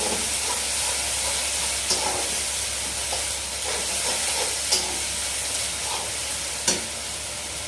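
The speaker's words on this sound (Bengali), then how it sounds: "এরপর আমি মশলাটাকে ভালো করে কষিয়ে নেব সুন্দর করে" Spice masala for kabuli chana being fried and stirred in a pan, a loud continuous close sizzle with a few sharp clinks of the spoon against the pan.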